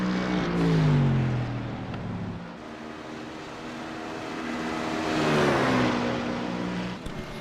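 A BMW Z4 GT3 in Warsteiner livery races in a sim-racing game at Watkins Glen, its engine note rising and falling through gear changes and swelling past twice, steady and loud with no talking.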